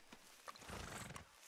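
Horse from Red Dead Redemption 2 whinnies and neighs with a few clip-clop hoofbeats, close and fairly loud over a brief stretch, with no one talking.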